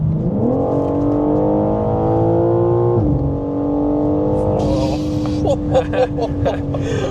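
BMW M4 G82 accelerating hard from inside the cabin, loud engine note climbing steadily through a gear, dropping at the shift around three seconds, then pulling again with some rattling and a voice near the end.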